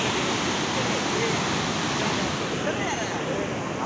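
Fast, heavy river water rushing through Taunsa Barrage on the Indus River, a steady broadband roar that stays loud and unbroken throughout, with no distinct voices standing out.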